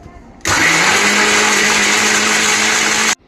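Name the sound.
mixer grinder crushing ice, lemon juice, pepper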